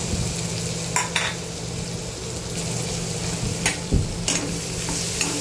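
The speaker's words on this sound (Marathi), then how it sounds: "कांदा परतून घ्यायचा आहे" Finely chopped onion with crushed garlic sautéing in a pan for spiny brinjal bharit, a steady close sizzle and frying hiss with a few sharp scraping stirs of a spoon against the pan.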